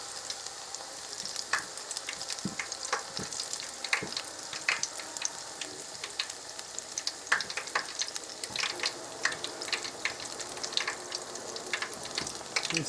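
Beer-batter onion rings frying in hot oil, a constant crackling sizzle with rapid irregular pops and spatters, close and lively, with no talking.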